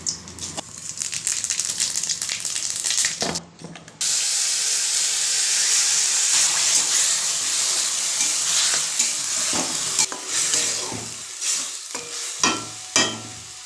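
Spice paste (masala) sizzles and hisses steadily as it is stirred in a hot pan, with loud continuous frying and occasional scraping clatters of the spoon, no voices.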